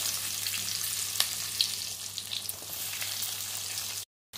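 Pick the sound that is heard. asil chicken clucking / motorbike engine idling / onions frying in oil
onions frying in oil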